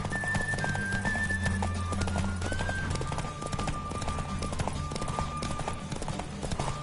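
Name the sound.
horse galloping, hooves clip-clopping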